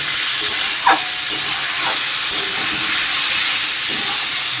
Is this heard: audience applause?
no